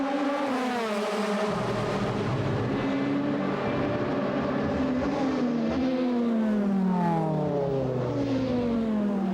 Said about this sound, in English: Tomczyk puts in a blinder on his very first flying lap with his Red Bull A4